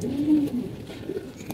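Shapla dome pigeons with white and black tails coo softly in a low, steady murmur, close by with no voices.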